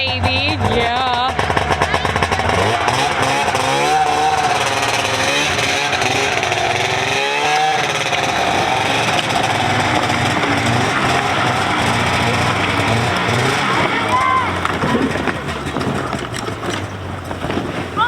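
Electric-start engine of a sled firing up and running: a steady, loud, buzzing small-engine drone that holds for many seconds with slight pitch wavers, close by, with brief voices at the start.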